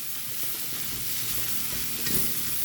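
Chow chow mezhukkupuratti, a chayote stir-fry, is stirred in a pan over the flame, with a steady close sizzle and soft scraping of the spoon moving through the pieces, no talk.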